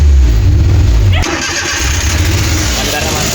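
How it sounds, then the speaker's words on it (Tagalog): A Suzuki K6A engine idling rough and misfiring, its uneven low rumble loud and close, with a sharp change partway through, under someone talking. "Pupurog-purog yung makina."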